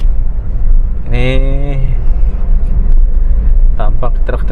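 Big empty coal-hauling trucks driving along a road toward IKN in Indonesia, with a loud, constant engine and road rumble, a short horn-like tone early on, and scattered clatter.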